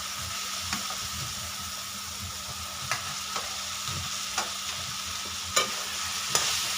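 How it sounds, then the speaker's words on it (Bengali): Potatoes and spice paste stir-fried in oil in a pan, with a steady soft sizzle and occasional scraping clicks of a spatula, close and alone with no talking. "আলু আর মশলা একটু কষিয়ে নেব।"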